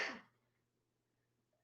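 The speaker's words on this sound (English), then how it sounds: "I'm gonna sneeze." One sharp, close sneeze bursts out at the start and fades into near silence, with no talking after it.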